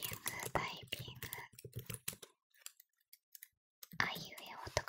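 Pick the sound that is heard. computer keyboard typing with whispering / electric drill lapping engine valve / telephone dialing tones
computer keyboard typing with whispering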